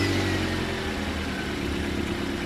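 A car engine idles steadily and close up, a continuous low rumble with a faint mechanical hum, no voices over it.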